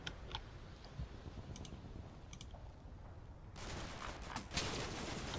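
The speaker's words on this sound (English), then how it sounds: "That seems more like machine gun fire from up there." Machine gun fire in the WWII video game Combat Mission: Battle for Normandy, faint distant rattling bursts of rapid cracks over a low background hiss, swelling into a denser, louder volley toward the end, with no talking.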